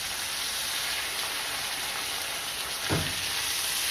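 A pot roast sears in butter and oil in a hot pan, giving a steady close hiss and crackle with one brief clunk near the end. No talking.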